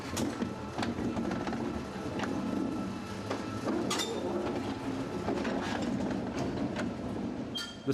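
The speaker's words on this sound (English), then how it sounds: "The train that has just arrived from Palma has to be got ready for its return journey to the capital." A Soller Railway train stands at the station in Sóller, Mallorca, just in from Palma, giving a steady rumbling mechanical hum with intermittent clanks and clicks, moderately loud and continuous.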